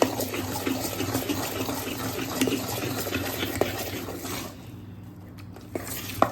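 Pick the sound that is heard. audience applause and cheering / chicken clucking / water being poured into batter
water being poured into batter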